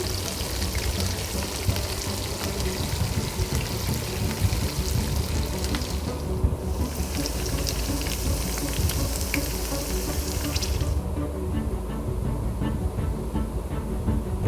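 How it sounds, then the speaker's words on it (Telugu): Green chilies fry in hot oil in a pan for a tamarind leaf curry, giving a steady, dense sizzle that runs unbroken and fairly loud from start to finish, with no talk over it. "బాగా ఫ్రై కానివ్వాలి"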